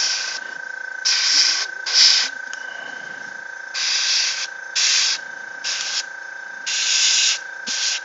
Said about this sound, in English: getting an airbrush in there, not too shabby